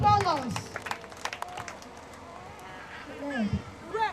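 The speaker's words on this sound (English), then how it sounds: "Please clap for this child" An audience at a school children's day celebration claps for a child, a short burst of scattered applause that fades under voices and background noise, with more clapping and talk near the end.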